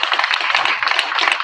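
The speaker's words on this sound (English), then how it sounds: "So give yourselves a round of applause for sticking through this." Brief, dense burst of audience clapping at a mayoral candidate forum in Pekin, close and steady for a moment without talk over it.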